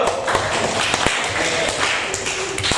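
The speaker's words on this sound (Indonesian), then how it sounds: "Oke, tepuk tangan dulu yuk." Classroom applause, a dense, steady clatter of many hands clapping up close throughout, with a few louder individual claps standing out.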